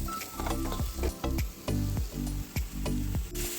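Fried paneer being stirred into chicken masala in a hot pan: a run of close, rhythmic spatula scrapes and knocks over a constant sizzle, with no talking.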